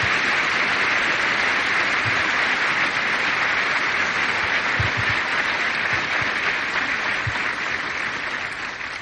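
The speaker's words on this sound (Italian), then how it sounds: "Un applauso a questi fratelli." A large crowd applauds steadily at an outdoor papal Mass in Porto San Giorgio, with a broad wash of clapping that holds for about nine seconds before starting to fade.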